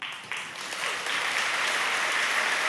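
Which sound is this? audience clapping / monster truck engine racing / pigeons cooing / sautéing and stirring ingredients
audience clapping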